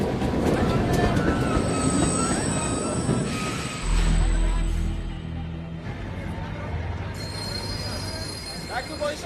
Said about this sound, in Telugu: అదేంటి ట్రైన్ వెనక్కెళ్తుందండి?